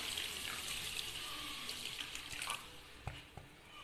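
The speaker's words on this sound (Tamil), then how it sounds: "சுகர் சேர்த்துட்டு அதுக்கு தேவையான அளவுக்கு தண்ணி ஊற்றிக்கலாம்." Water pours into sugar in a pan while making milk-based gulab jamun syrup, a continuous splashing trickle that thins out, followed by a couple of soft knocks near the end.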